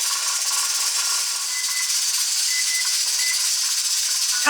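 Pressure canner on a stove holding 11 pounds of pressure, a steady bright steam hiss continuing throughout with faint rattling tones, close and fairly loud, no talking.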